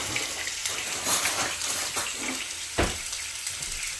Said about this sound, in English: you're gonna saute the tomato